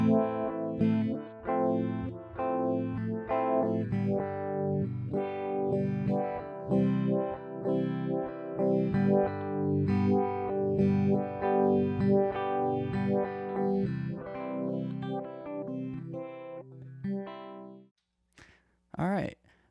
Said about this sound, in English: I'm going to play through the chorus setting.